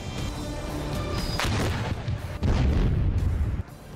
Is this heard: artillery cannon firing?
yes